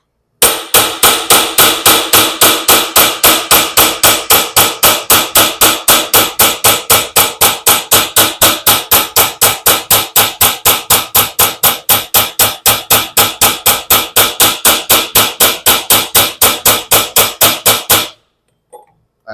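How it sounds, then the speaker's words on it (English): A hammer strikes a warped steel knife blade in a fast, steady rhythm, each blow ringing sharp and loud. The run of strikes lasts about eighteen seconds, then stops. "we're going to be hammering where the warp is primarily"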